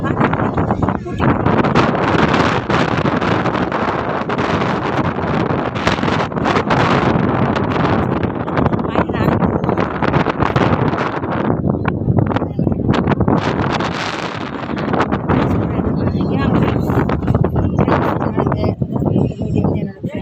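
Strong wind at Ooty buffets the microphone with loud, continuous roaring gusts that swell and ease over about twenty seconds, close and dominating.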